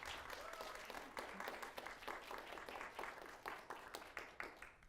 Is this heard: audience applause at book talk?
yes